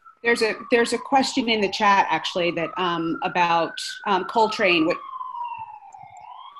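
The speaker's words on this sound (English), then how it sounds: "Apologies for the sirens in the background." A police siren wails steadily in the background, its pitch gliding slowly downward, while a person talks over it in the foreground; the siren carries on alone after the talking stops.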